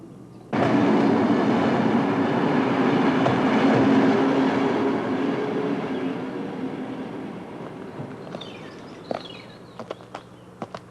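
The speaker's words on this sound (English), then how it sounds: "Train must have gotten in early." A train rumbles steadily along the tracks at close range, then fades, leaving a few sharp clicks and clacks near the end.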